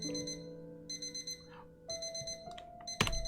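An alarm or telephone ringing in the video game Keyword: A Spider's Thread, a loud bright electronic ring pulsing in rapid repeated bursts with brief pauses, ending in a sharp clunk.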